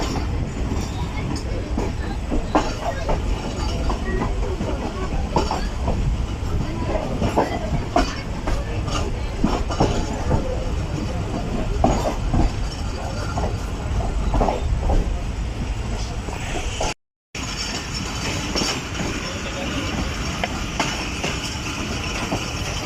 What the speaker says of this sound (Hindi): प्लेटफॉर्म नंबर 2 पर भी इसका G40 का ट्रेन खड़ी हुई है।